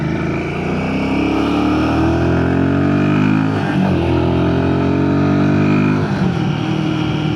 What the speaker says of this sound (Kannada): ಸ್ವಲ್ಪ ಹೊತ್ತು ಗಾಡಿ ಓಡಿಸೋಣ ಹಂಗೇ